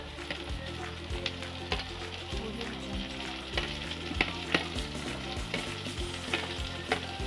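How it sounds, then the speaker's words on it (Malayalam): Tomatoes hit a pan of softened, frying onions for a Kerala spicy clam fry, giving a steady loud sizzle with repeated spoon-scraping and stirring clicks throughout, no talking. "നമുക്കിനി തക്കാളി ചേർത്ത് കൊടുക്കാം."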